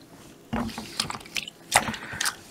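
Small splashes and wet sloshing as an antique accent lamp is lowered into soapy, lavender-scented cleaning water, a few short irregular bursts at close range.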